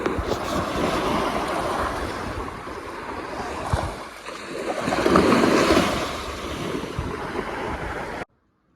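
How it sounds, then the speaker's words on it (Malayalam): Blustery cold wind buffeting the microphone outdoors beside a backwater lake, mixed with a wash of water and surf, loud and continuous before cutting off abruptly. "നല്ല തണുത്ത കാറ്റുണ്ട്."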